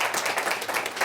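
An audience applauding themselves during a Shoud gathering of the Emergence series, a brief, steady patter of many hands clapping at moderate distance.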